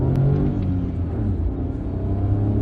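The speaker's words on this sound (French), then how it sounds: "Bon, vérifions aussi son accélération." A 2019 Renault Clio 4's small three-cylinder engine rumbles and pulls steadily as it accelerates, a continuous low drone filling the recording.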